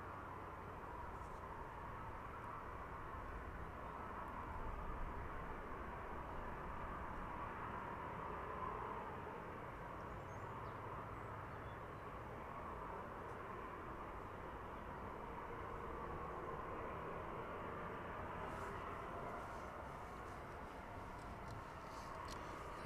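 A Boeing 767 airliner descends on its evening approach toward runway 09, heard as a steady, fairly distant broadband jet roar that holds at an even level throughout with no talking over it.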